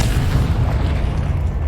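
A Confringo fire-blast spell cast in the Hogwarts Legacy video game gives a loud, deep booming rumble that holds steady and dense for the whole moment, with no voices.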